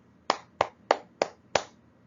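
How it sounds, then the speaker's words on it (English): Five evenly spaced hand claps come in a brisk, steady beat for a children's sing-along, each one loud, close and sharp, and nobody talks over them. "Clap your hands with me."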